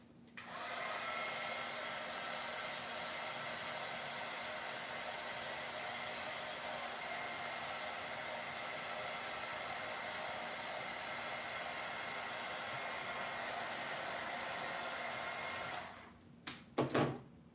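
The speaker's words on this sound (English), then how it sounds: "So I'm gonna stop here and just really quickly heat set this." A heat tool blows steadily and loudly for about sixteen seconds while setting ink on paper, a continuous airy roar with a faint hum, then cuts off abruptly, followed by a few short handling knocks.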